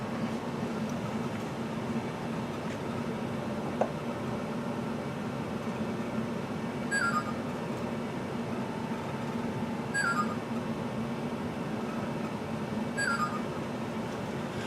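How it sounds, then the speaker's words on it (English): A Milwaukee Road 4-8-4 Northern model steam locomotive sits on a track with a soft steady hum beneath it, while a faint electronic chirp repeats three times at about three-second intervals. "Notice the chirping sound of the engine."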